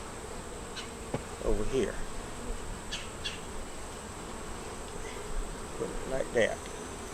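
Honey bees buzz steadily through a hive inspection while a beekeeper adds a box. The droning hum is continuous and moderately close, and a few brief spoken words come over it.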